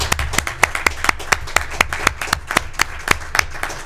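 Applause from a small group at a city council plans panel meeting, sparse and distinct claps at a fairly regular pace, close and moderately loud, continuing steadily with no talk over it.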